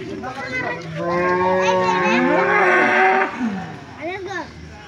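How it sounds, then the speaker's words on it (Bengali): A cow moos loudly and long close by, followed by a shorter lowing call, with faint background chatter. "দেখুন সামনে একটা পাগলা গরু এসেছে"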